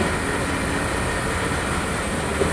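A train running along a railway line, a steady close rumble and rolling wheel noise with no talk.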